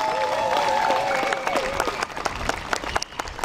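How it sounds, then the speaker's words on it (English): A crowd at a Memorial Day parade applauds an anthem singer, dense clapping that is loud at first and thins into scattered claps, with a voice heard briefly over it. "Give her another round of applause, please."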